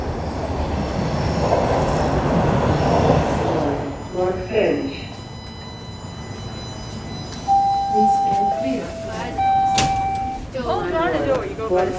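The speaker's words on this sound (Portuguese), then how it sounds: "Olha o nosso trem chegando agora." A Toronto subway train pulls into a station with a loud rumble, then squealing wheels and high brake tones as it slows. Someone talks over the noise.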